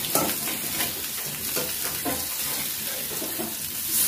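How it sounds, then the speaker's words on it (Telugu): Fish fries in a pan with a little oil, a dense steady sizzle close up with faint spatula scrapes, continuous for a few seconds without speech. "ఇంకా తక్కువ ఆయిల్తో మనకి ఫ్రై అనేది అవుతూ ఉంటుంది."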